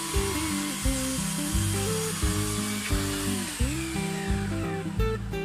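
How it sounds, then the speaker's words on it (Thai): A hand saw cuts through wood in regular back-and-forth strokes, each rasping pass rising and falling in pitch, close and fairly loud. "เราก็จะทำการเลื่อยไปเลยนะครับ"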